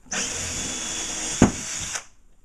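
A power drill whines steadily for about two seconds as it bores into drywall, with a brief knock partway through, close and loud.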